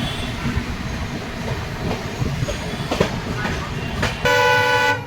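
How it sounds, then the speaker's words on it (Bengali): A train pulls out of Kamakhya station, its car rumble and rattle steady throughout, with a horn sounding near the end as a long sustained toot; some voices are heard faintly in the background. "কামাখ্যা থেকে ট্রেন ছেড়ে দিয়েছে"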